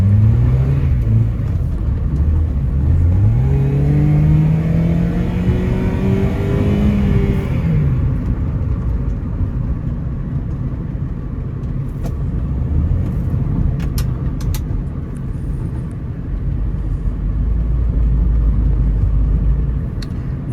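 A Honda Accord CL9 car drives and accelerates, its engine note climbing loudly for several seconds before settling into a steady, heavy road rumble that continues close and unbroken.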